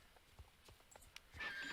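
A horse in the game Star Stable Online neighs with soft hoof clops, faint and brief, ending in a brighter whinny-like burst.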